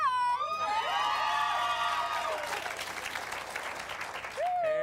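A television studio audience applauds and cheers, with sustained clapping, whoops and high shouts across the stretch, and loud voices briefly rising over the crowd at the start and end.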